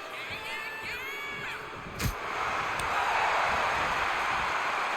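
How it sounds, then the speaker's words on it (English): A virtual arena crowd cheers during a women's tournament match in the WWE 2K25 wrestling video game, a dense continuous roar that swells louder after a sharp hit, with shouting voices on top. "No one knows how to get a crowd going quite like Trish Stratus"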